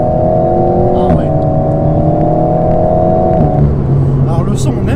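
Alpine A110 Pure engine humming behind the cabin in a steady, close drone with small shifts in pitch as it pulls, a voice speaking over it throughout.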